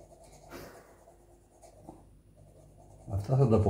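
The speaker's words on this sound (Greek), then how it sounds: "πώς πατάμε το μολύβι πάνω στο χαρτί μας ή στο καμβά" A pencil scratches and strokes across paper or canvas in soft, uneven bursts, fairly faint, with a voice speaking nearby and a louder rustle at the end.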